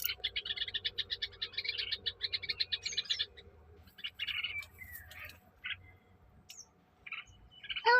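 A bird calls near its nest as a water snake approaches: rapid, repeated chirping in bursts, loud at first and then sparser, with scattered short calls against a quiet outdoor background.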